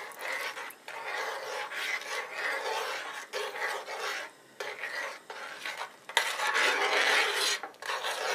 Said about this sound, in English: and then just stir it in